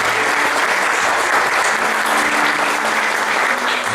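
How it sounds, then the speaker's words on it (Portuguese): A church congregation applauds at a youth service, steady dense clapping filling the space throughout with no talk over it. "Uma salva de palmas a Jesus."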